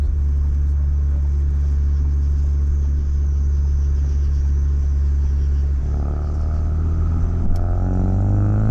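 A Ford Focus RS MK3 turbocharged engine pulls hard under acceleration, a loud, steady low rumble that rises in pitch with a gear change partway through, heard alone from inside the car.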